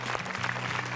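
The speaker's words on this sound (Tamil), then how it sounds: "நல்ல கைதட்டல்." Studio audience applause on the Tamil TV game show Home Minister, a brief steady burst of clapping from a crowd, with a low hum underneath.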